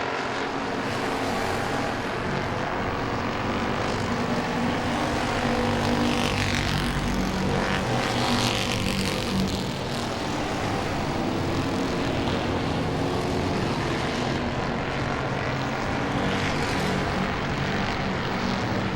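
Race cars lapping Langley Speedway during a Super Streets race, a steady loud engine roar that swells and fades slightly as cars pass, continuous throughout with no talk.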